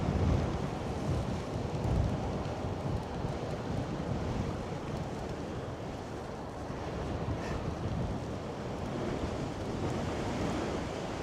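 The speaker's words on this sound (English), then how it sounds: "this wind that I'm riding into is more aggravating than anything right now" Wind buffeting a microphone during a chilly cycling ride into a headwind in New Mexico, producing a steady loud rumbling roar that lasts throughout, with no talking.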